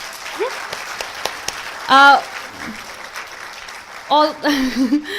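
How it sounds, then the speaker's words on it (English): Audience applause at a launch event for a Pakistani literature anthology in English, heard as short bursts of clapping with voices and cheers rising in between over a murmuring room. "Dr. Aroosa Kanwal, with a huge round of applause."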